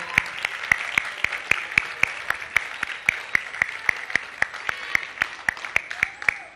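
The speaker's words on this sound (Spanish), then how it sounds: "Un fuerte aplauso, por favor." Audience at a Spanish-language university lecture event applauds steadily with rhythmic, evenly spaced claps, fairly close and clear, sustained for several seconds.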